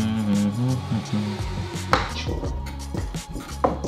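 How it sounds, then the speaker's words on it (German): Zucchini being chopped with a knife on a cutting board, a series of irregular close knife strikes over a steady low background hum, with no talking. "Zucchini schneiden."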